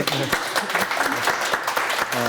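Studio audience on a Korean film talk show gives a short burst of clapping, with crisp claps mixed under overlapping voices.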